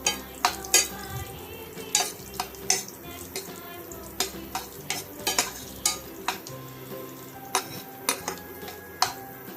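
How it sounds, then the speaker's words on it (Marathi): Dry fruits and nuts roasting in ghee in a pan while a spoon stirs them, with a steady sizzle broken by regular, close scraping and clinking strokes of the spoon against the metal pan. "छान असं तुपामध्ये सगळा सुका मेवा छान परतून घ्या।"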